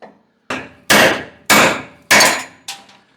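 A hammer strikes a chisel to knock rusted parts off an old car: six sharp, ringing metallic blows at roughly half-second intervals, close and loud, each decaying quickly, with no talking.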